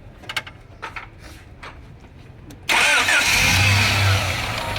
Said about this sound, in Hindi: ये लगाओ, गाड़ी को स्टार्ट करो यार।